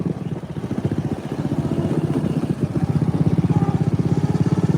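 A John Deere riding lawn mower engine runs steadily up close, its loud, rapid, pulsing drone holding throughout while the mower is driven with belt tension problems.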